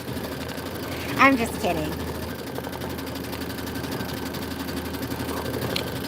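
A sewing machine runs steadily, stitching at a quilting table while someone speaks briefly over its hum.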